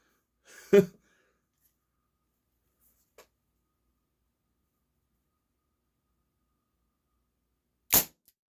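Two sharp, isolated pops from a Dan Wesson 715 CO2 pellet revolver, fired several seconds apart in a quiet setting, with a faint click between them.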